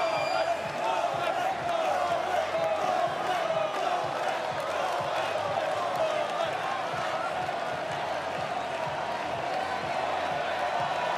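A large tennis crowd at Rod Laver Arena, Australian Open, claps and cheers for Tsitsipas in a dense, sustained roar of applause that holds steady throughout, heard from a distance.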